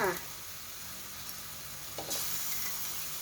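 Cooked noodles drop into a hot pan for dry pork sukiyaki, setting off a steady sizzle with a brief stir, a burst of frying noise near the end, heard alone.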